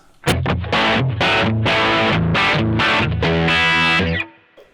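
An electric guitar played through a Boss OD200 pedal set to a mid-gain distortion tone, with loud, close chugging chords in a choppy rhythm that ring out briefly at the end.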